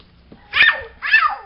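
A dog gives two sharp barks close by, about half a second apart, with a quiet background.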